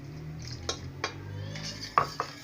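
A spoon clinks and scrapes against a bowl while chocolate brownie batter is mixed with icing sugar and milk, with a few distinct taps over a low steady hum.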